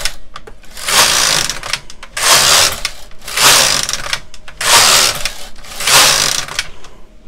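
A Brother KX350 or LK150 knitting machine is worked in repeated passes, each carriage stroke a loud rushing clatter lasting about a second, five strokes separated by short pauses.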